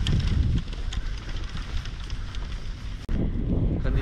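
Strong, cold wind buffets the microphone on a mountain golf course, a continuous rough rumble with gusty surges and a brief dropout near the end, no talking.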